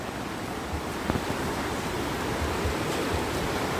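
High river water rushing past a broken bridge, a steady broadband roar of flowing water close by with faint gusts of wind noise, no voices.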